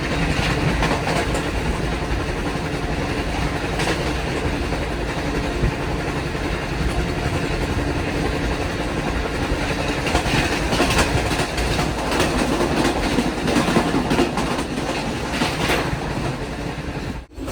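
The Subak Raftar railcar runs through at about 110 km/h on the Lahore to Rawalpindi line, giving a loud, continuous rumble with rhythmic clickety-clack of wheels over rail joints all the way through.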